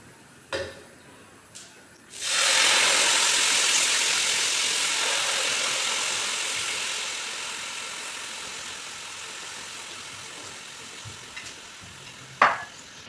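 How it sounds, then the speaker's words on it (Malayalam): Jaggery syrup poured onto grated coconut, a sudden broad rushing splash that starts after a couple of quiet clicks and slowly tapers over several seconds, ending with a sharp knock. "നമ്മൾ തേങ്ങ ഇവിടെ റെഡി ആയിട്ടുണ്ടെങ്കിൽ നമുക്ക് ഇതിലോട്ട് നമ്മൾ ശർക്കര പാനി ഒഴിച്ചു കൊടുക്കണം."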